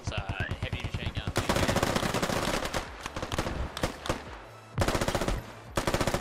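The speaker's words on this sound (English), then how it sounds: "It's a heavy machine gun." Heavy machine gun firing in the video game Squad, with rapid bursts of loud close shots in repeated volleys and short pauses between them.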